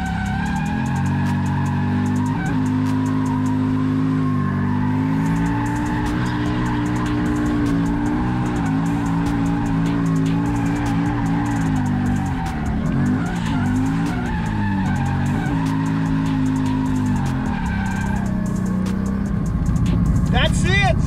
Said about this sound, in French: Deuxième passe de drift de la saison.